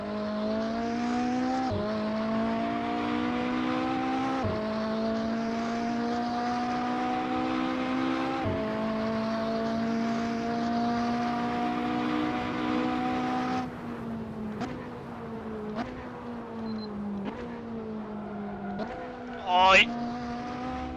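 Ferrari engine in a racing video game, driven on a wheel with no assists, holds a steady high drone through gear changes, then drops to lighter, broken revving near the end.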